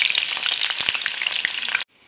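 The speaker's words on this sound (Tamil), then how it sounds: "பூண்டையும் ஃப்ரை பண்ணி எடுத்துக்கலாம்" Garlic deep-fries in hot oil in a kadai, giving a loud, dense crackling sizzle close by that cuts off abruptly near the end.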